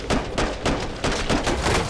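Burst-fire gunshots in the Killing Floor 2 video game, a rapid run of loud sharp cracks in quick clusters, close and dominant with no talk.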